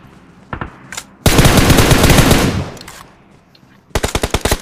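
Automatic gunfire in the battle royale game PUBG / BGMI: a few sharp single shots, then a long loud sustained burst fading out, followed by a rapid run of close, punchy shots.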